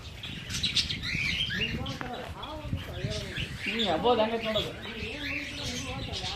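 Colourful parrots in an aviary at Kappatagudda zoo in Gadag district chirp and call repeatedly, bright squawks scattered throughout at moderate distance, while someone talks over them.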